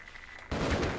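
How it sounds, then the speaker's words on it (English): Automatic turret gunfire in the Half-Life video game, a sudden loud burst of shots breaking in after a quieter stretch and continuing densely to the end. "Oh! Auto turret, you jerk of jerks."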